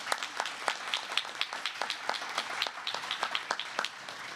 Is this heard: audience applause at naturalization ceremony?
yes